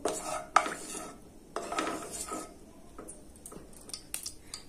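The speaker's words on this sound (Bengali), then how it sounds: "তেলটা একটু নাড়াচাড়া করে নেব।" A spoon stirs white cooking oil in a pot while making a banana flower recipe, giving a few sharp metallic clinks and scrapes, loudest at the start, then softer intermittent taps.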